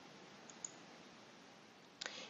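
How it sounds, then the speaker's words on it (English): The delete key pressed on a computer keyboard, a single soft, close click followed by a brief second tap, faint against a low steady hiss. "pressing delete on"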